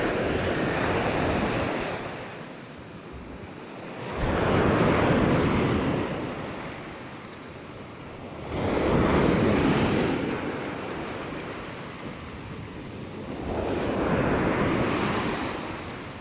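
Ocean waves roll in at a seaside spot lined with houses during monsoon weather, three slow surges rising and falling over steady wind buffeting the microphone, with no voices.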